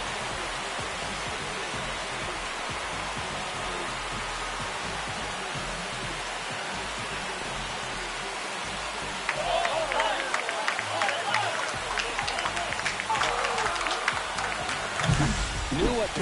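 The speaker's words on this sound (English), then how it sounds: "This crowd has really come alive." Stadium crowd in the MLB 25 baseball video game swells into loud cheering after a home run, a sustained roar of voices rising midway and staying dense to the end.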